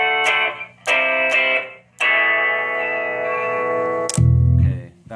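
Electric guitar chords played through a lo-fi effect pedal with a thin, boxy sound like a small old alarm clock radio speaker, with distorted strums and a low thump near the end.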